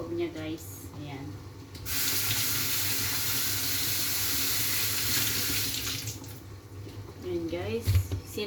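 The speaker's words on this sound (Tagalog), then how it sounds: "Hugasan lang natin sa loob niya, guys." Tap water runs into a sink for about six seconds while a mushroom is rinsed inside, a steady close spray between softer sections where a person talks.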